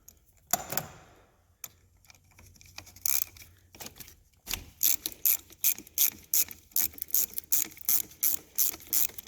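A ratchet with a 10 mm socket clicks as it unscrews a car battery terminal on a Toyota, first a few scattered taps and clunks, then rapid bursts of sharp metallic clicking, close and loud.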